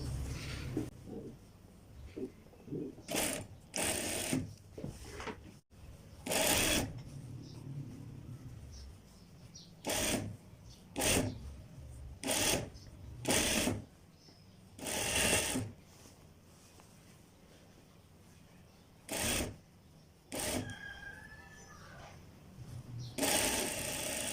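A sewing machine stitches the large sleeve piece onto a shirt in repeated loud bursts of rapid running, separated by short pauses, close up and with no talking.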